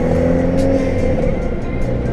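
A Hyundai Veloster's engine hums close by, a steady tonal drone with slight rises in pitch, heard alone without speech.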